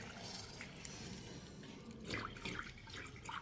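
Water from a cleared sewer pipe flows down in a steady faint wash, with soft splashes and drips in the background.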